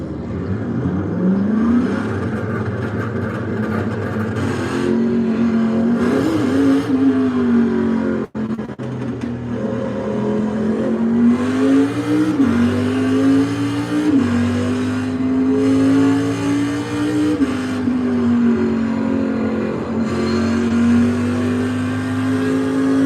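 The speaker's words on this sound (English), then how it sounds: "It's 4 laps on the Nordschleife in the Cadillac CTSV race car" Cadillac CTS-V race car in iRacing on the Nordschleife, engine droning loud and steady with the revs rising and falling through the laps, a brief cut near eight seconds, no talk over it.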